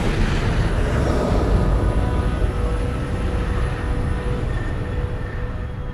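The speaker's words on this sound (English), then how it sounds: "The plane is refueled and cleared for takeoff." Airliner jet engines running during refuelling and takeoff, a loud, steady broadband roar with a faint high whine that holds level throughout with no voices.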